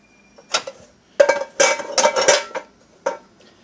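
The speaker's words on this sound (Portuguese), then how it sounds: "Agora eu tenho que arrumar aqui a louça." Dishes, pots and pans clatter and clink in quick bursts as they are arranged in the racks of an Electrolux LI10X 10-place stainless steel dishwasher, close and fairly loud with short pauses between.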